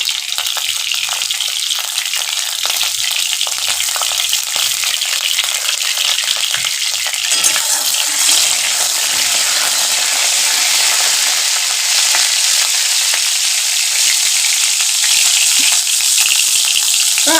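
Cut potatoes fry in hot oil tempered with cumin seed, giving a loud, dense, unbroken sizzle that stays close and steady throughout.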